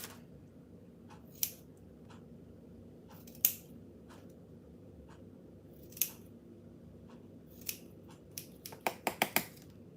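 Scissors snip at a birthday cake decoration in scattered single cuts, then a quick burst of several snips close together near the end, all nearby against a quiet room hum.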